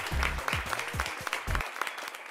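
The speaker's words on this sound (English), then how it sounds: "Please help me in welcoming her with a huge virtual round of applause." Applause at a corporate demo day event, a short burst of clapping with a few distinct hand claps and a low thumping layer, fairly close and fading after about two seconds.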